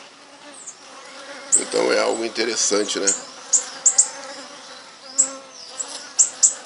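City bees buzz around a spot while a person speaks over them; the drone rises and falls in short swells.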